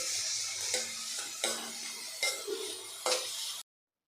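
Onion fries over medium heat in a pan until lightly golden, giving a soft, even sizzle punctuated by four or five distinct scraping stirs, then cutting off abruptly.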